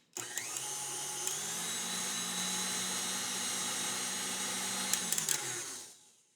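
A stand mixer whips egg whites toward stiff peaks, running as a steady, loud continuous whir for about six seconds before spinning down at the end.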